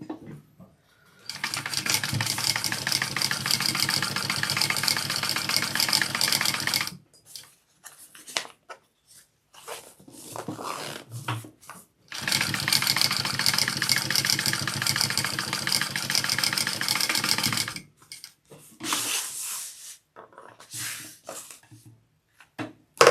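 A sewing machine stitches fabric in two long, steady runs of fast mechanical whirring, close and loud. Quiet gaps with small handling sounds fall between and after the runs.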